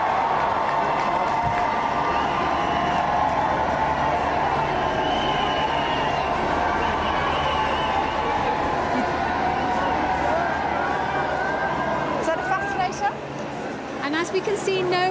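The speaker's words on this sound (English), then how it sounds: "Let's listen to the cheer." A large outdoor crowd cheers and roars continuously for the Prime Minister's arrival at a royal wedding occasion, a dense sustained swell of voices with scattered shouts and whistles, rising a little near the end.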